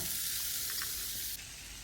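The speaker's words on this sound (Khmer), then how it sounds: "បាទបន្ទាប់ពីដាក់ខ្លាញ់នឹងឆ្នាំងក្តៅហើយ ខ្ញុំបានដាក់សណ្ដែកបណ្ដុះទៅចូលនៅក្នុងឆ្នាំង" Bean sprouts sizzle in hot fat in a pot, a dense, steady frying hiss close by with faint stirring scrapes, no voices.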